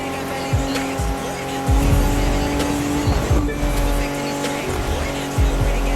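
A race car in The Crew 2 revs hard on a dusty course, its engine whining and rising through gear changes while tires squeal repeatedly, loud and close, with occasional talk underneath.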